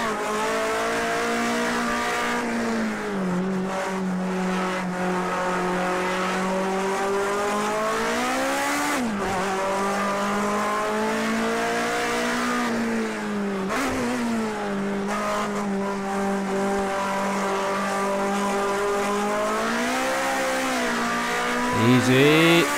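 Rear-wheel-drive race car in Project CARS 2 on a warm-up lap, its engine droning steadily and loud throughout with repeated revving rises and falls as gears change, and a brief tire squeal near the end.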